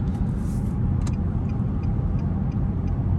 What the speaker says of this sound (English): We're climbing up to about 40 miles an hour.